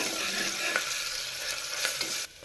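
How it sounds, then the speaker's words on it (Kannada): Ginger garlic paste frying in a hot pan for a mixed vegetable curry, a steady close sizzle with light stirring scrapes, continuous and fairly loud before cutting off at the end. "ಶುಂಠಿ ಬೆಳ್ಳುಳ್ಳಿ ಪೇಸ್ಟ್ ಸೇರಿಸ್ತಾ ಇದ್ದೀನಿ ಫ್ರೈ ಮಾಡ್ಕೋಬೇಕು"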